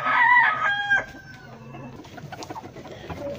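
A Peruvian gamecock at a cockfighting yard crows once, close and loud, then trails into soft clucks and scattered farmyard noise.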